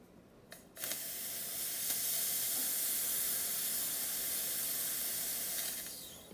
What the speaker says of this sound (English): And then we also have plenty of steam.